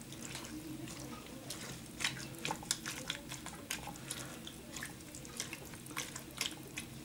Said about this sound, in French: Je vais rajouter encore un peu d'eau.